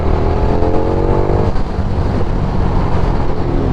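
KTM 1290 Super Duke GT motorcycle engine and exhaust running loud and close, a steady rumbling drone with a rising pitch early on, then holding an even, throaty note.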